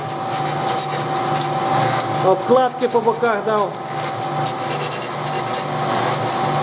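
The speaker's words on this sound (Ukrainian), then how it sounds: "І шліфуємо їх всіх дружно. Спочатку одну сторону на чисто, потім перевернемо." Metal washers stacked together are sanded flat, giving a steady, close rasping grind that runs throughout while someone talks over it.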